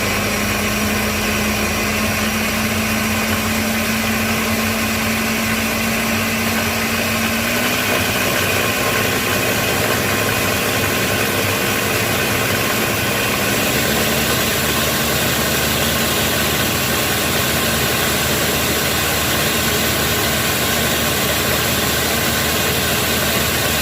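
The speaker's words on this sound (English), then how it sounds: "So I've got my 1/4 cup of olive oil, and then we're going to go ahead and blend." A blender whirs steadily for a long stretch, blending sofrito ingredients with olive oil, the motor's pitch shifting slightly partway through as the mixture loosens.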